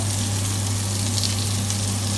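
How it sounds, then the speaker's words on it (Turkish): Meatballs (köfte) made with egg and bread frying in a pan give a steady, even sizzling hiss over a constant low hum, unbroken for the whole stretch with no talking. "Sol birkaç köfteyi kızartıyorum."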